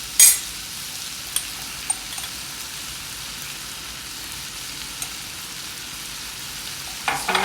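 Cauliflower pepper fry being stirred in a hot pan over a low flame, a soft steady sizzle with occasional light scrapes and taps of the spoon close by.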